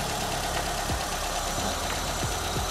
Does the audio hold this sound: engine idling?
yes